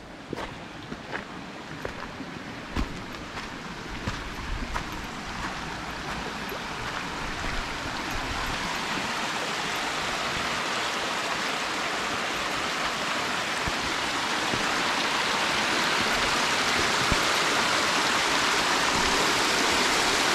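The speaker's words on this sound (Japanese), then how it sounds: "ちっちゃい滝" Rushing water of a small waterfall on a mountain trail in Japan's Konan Alps splashes and hisses steadily, growing louder and fuller as it nears, with a few faint clicks early on.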